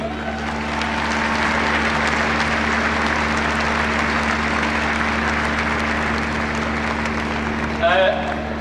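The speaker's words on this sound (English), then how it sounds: "So, round of applause for Breaffy." Crowd applause for the Breaffy team after the Mayo Senior Football Championship final against Ballina Stephenites, heard as a steady, somewhat distant outdoor wash of clapping under a constant electrical hum, with a brief louder sound near the end.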